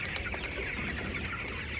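Broiler chickens cluck continuously in a farm pen, a dense, busy chorus of overlapping fowl calls with steady background noise and no speech.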